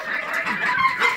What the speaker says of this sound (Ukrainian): Курей і качок ми виганяємо на огород наш.